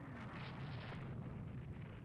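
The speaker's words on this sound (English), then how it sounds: "But a decent amount of 600 gunfire now coming in." Naval gunfire in the warship game Rule the Waves 3, heard as a continuous dense rumble of distant booming shots and blasts with no clear individual reports, steady and fairly loud throughout.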